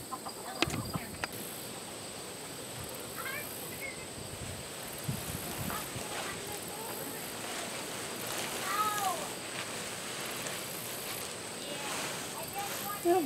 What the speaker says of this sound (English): Mama kitty.